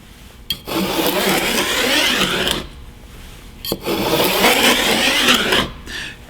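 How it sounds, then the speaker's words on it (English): A freshly sharpened veneer saw with an arched blade cuts wood veneer along a straight edge in two long, rasping strokes, each a steady scratchy rush of about two seconds, close and fairly loud. "using your freshly sharpened veneer saw, it should take just a couple of strokes in order to come up with a nice straight line"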